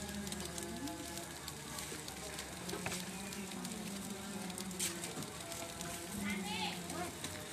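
Chicken frying and grilling over plentiful charcoal at a mosque gathering for the Islamic new year, with steady crackling sizzle throughout beneath voices talking nearby.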